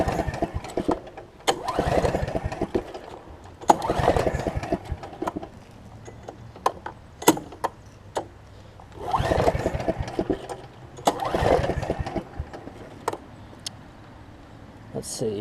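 A Snapper RER riding mower, choke pulled out, is cranked repeatedly: bursts of starter churning and sputtering engine attempts in a few long pulses, separated by quieter gaps with clicks and a voice talking between tries.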